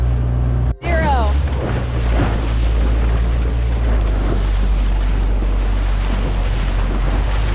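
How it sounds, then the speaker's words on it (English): An electric-start outboard engine on a sailboat off Catalina Island cranks and catches after a short click, then drones steadily on the water with wind buffeting the microphone and waves washing around the hull. "This is such a nice engine. It's push button electric start."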